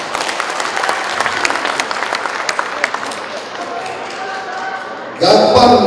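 An audience applauds at a thanksgiving ceremony for a disability law, with a dense patter of clapping under voices, then a louder, fuller swell of crowd noise at the end.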